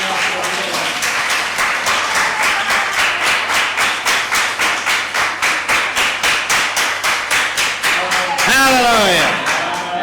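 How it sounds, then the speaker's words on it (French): Congregation in a church service claps in a steady, rhythmic beat, loud and continuous for several seconds, with a voice rising in over the last moments. "Applaudissements."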